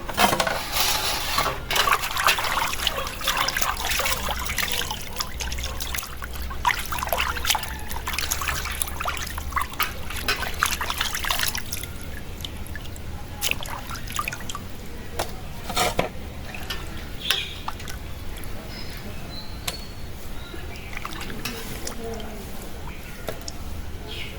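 Hilsa and other fish pieces are rinsed in water in a home kitchen, with splashing, trickling and clattering of pots and utensils throughout. Someone talks over the washing.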